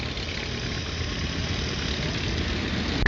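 Spad XIII C1 biplane engine idling while taxiing at the La Ferté-Alais airshow in 2014, a steady loud rumbling drone with propeller wash, roughly constant and rising slightly at the end.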